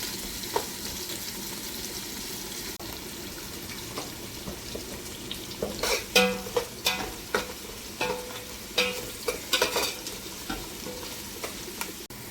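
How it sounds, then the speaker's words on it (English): Onions fry and brown in a pan for dhal pitta, giving a continuous soft sizzle that runs throughout, joined partway through by a series of sharp scraping and clattering stirs close by. "You add your onions and let this brown."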